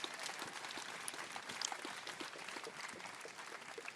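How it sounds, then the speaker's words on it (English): A crowd applauds outdoors at an SCLC and NAACP Youth Coalition march in Tuscaloosa, Alabama, a dense, steady wash of clapping that holds for several seconds without any talk. "Give yourselves a big round of applause."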